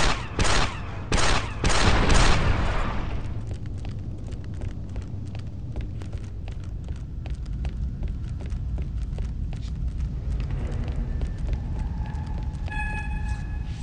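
Turret gunfire in Star Wars: Republic Commando, a few loud rapid bursts at the start that give way to a steady stream of sharp shots over a low hum, with tonal beeps near the end.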